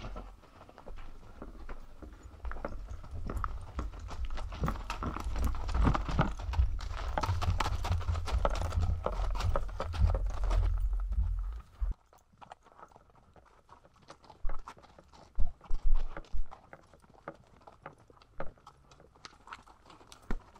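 Pack donkeys, short-eared, walking a wilderness trail, hooves clip-clopping in a steady rhythmic patter, close and fairly loud at first, then thinning to sparse, scattered steps.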